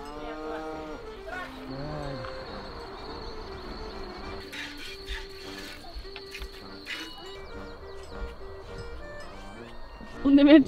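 A cow in a mountain village in Bucovina, Romania, moos before being milked, with a drawn-out low call early on amid crickets, ambient rustle and a sharp knock near the end.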